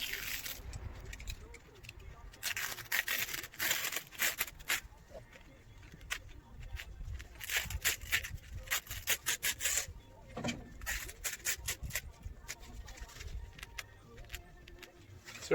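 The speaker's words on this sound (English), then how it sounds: "Sorry, my blade's a little dull" A dull blade cuts back window flashing near the nailing flange, making close, uneven scraping and rasping strokes with short pauses between them.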